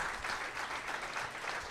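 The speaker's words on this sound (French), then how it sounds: "Une bonne main d'applaudissement, s'il vous plaît." An audience at a multiple sclerosis evening event applauding its speakers, a short stretch of steady, fairly faint crowd clapping.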